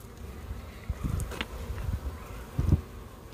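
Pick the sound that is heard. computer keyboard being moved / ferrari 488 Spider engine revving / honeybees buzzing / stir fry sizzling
honeybees buzzing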